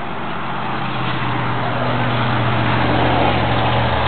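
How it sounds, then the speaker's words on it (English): Big truck passing close in a Tallapoosa setting, a loud, steady low engine roar and road rumble that swells slightly over a few seconds, heard alone without talk. "sometimes it gets loud, the big truck"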